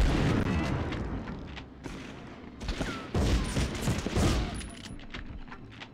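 Grenade explosion in a video game shooter, heard as dense, loud booming bursts and rumbling blasts that overlap in rapid succession, with a low rumble between them.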